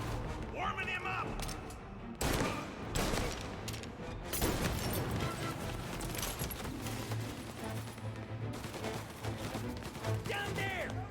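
Dense, rapid gunfire crackles almost nonstop in the 1930s gangster video game Mafia, a close firefight in a building with stairs, with shots layered over a low drone and voices shouting amid the bursts.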